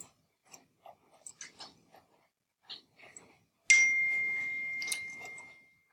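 A phone gives off a sustained electronic beep that holds steady for about two seconds before fading, after scattered soft clicks and small noises. No voices.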